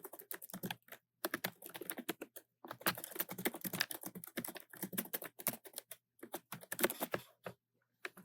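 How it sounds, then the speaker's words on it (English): Rapid, uneven keystrokes on a computer keyboard as a task is typed into a web form, close and clear, in bursts with short pauses and no talk. "So I'm just going to type in a task."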